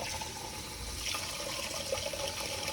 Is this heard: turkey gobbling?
no